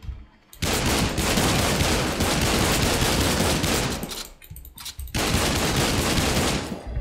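Sustained automatic gunfire in the online shooter The Cycle comes in two long, loud, dense bursts separated by a short pause.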